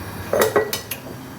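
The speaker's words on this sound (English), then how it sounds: "right now I'm putting another pot on the fire, a wider pot" A wide metal cooking pot set down on a stovetop while making creamy macaroni, a few close clanks and clinks over a couple of seconds, followed by quiet.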